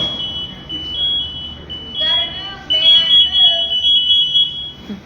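A high, steady electronic firefighter distress alarm tone sounds continuously, swelling in intensity and shifting pattern, with faint voices in the background at a fire station.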